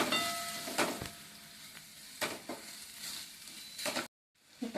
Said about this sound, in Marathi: हा दोडका जो आहे तो छान परतून घ्यायचा आहे